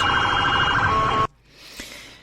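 Ambulance sirens wail on a highway where the ambulances are stuck among trucks, loud and close for over a second, then cut off abruptly, leaving fainter road noise with a brief distant burst.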